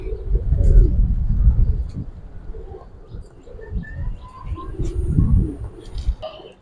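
Giribaz pigeons at a pigeon seller's, cooing in low repeated rumbling phrases close by, with a few faint chirps and background murmur between calls.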